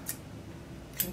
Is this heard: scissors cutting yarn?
yes